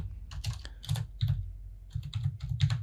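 Typing on a computer keyboard: close, crisp key clicks in quick irregular clusters with short pauses between bursts, alone without talk.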